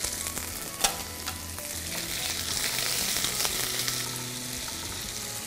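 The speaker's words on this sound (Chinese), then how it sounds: "我们先放大蒜，放豆干，再去先炒一下" Garlic and dried tofu sizzle and crackle steadily in a hot wok while being stir-fried, with occasional spatula scrapes and clinks over a constant loud frying hiss.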